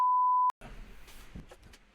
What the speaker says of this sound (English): Hopefully there was a little bleep and a fuzz out over my mouth.